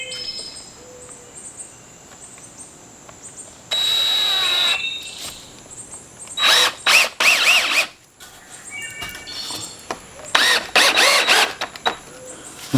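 A power drill drives self-drilling deck screws into a 2x4 on a deck railing, with several loud whining bursts of varying length separated by quiet gaps, close and alone.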